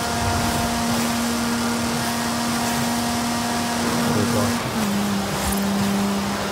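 A Land Rover Defender's engine at top speed in Forza Horizon 5, a loud sustained high drone holding steady, then shifting pitch briefly as the gear changes.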